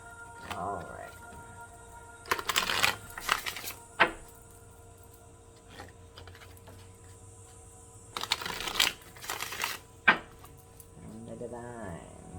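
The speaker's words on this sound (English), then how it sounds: "Better give them a good shuffle." Two bursts of riffling card shuffling, one early and one later, with quiet room noise and a low voice murmuring between them.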